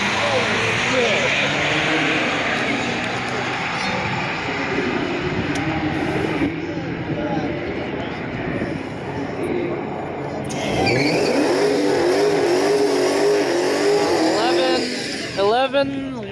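A brand-new truck runs a drag strip pass at a Wednesday night drag racing event, engine roaring loudly and rising in pitch as it accelerates, with a second surge later, people talking over it.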